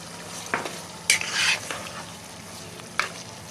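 Mutton mince with chopped coriander fries in a pan with a soft, steady sizzle, broken by a few sharp scrapes and clinks as it is stirred.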